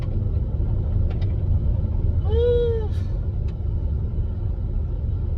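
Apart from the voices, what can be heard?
car driving slowly over a rough damaged road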